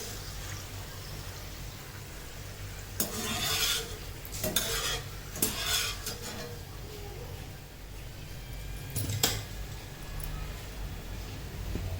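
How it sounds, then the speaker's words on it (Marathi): Jaggery kapnya, a sweet snack, fry in oil with a constant low sizzle, broken by several bursts of scraping and clattering from a utensil in the pan. "आता सर्व अशा तळून घेते मी"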